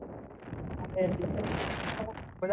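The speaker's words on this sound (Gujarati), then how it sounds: "પવન જોરદાર ફૂંકાઈ રહ્યો છે અત્યારે." Strong wind gusts across a forested hilltop, roaring and buffeting the microphone in a steady broadband rush that swells midway, with someone speaking briefly over it.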